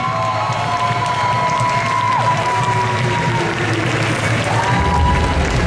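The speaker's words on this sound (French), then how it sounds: "je vais vous demander un peu d'applaudissements pour Jester Cosplay" A crowd at a cosplay costume contest applauds loudly and continuously, with scattered cheers and whistles rising over the clapping throughout.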